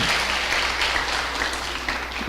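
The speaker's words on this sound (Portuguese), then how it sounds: "Você merece até uma salva de palmas." Audience clapping at an evening church event, steady continuous applause at moderate volume, with a low hum underneath.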